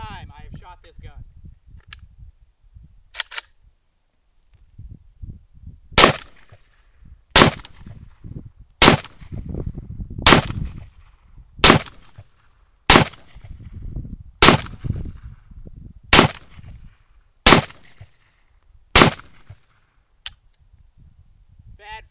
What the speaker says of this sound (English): First up, the new polymer mag. And this is the first time I have shot this gun.